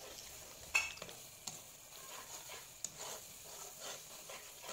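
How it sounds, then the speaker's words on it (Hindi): Spoon stirring and mixing spices, including black pepper powder, through chana masala frying in a pan, giving a soft continuous sizzle with a few light scraping clinks. "चम्मच की मदद से हम सारे स्पाइसेस को अच्छी तरह से मिक्स कर लेंगे"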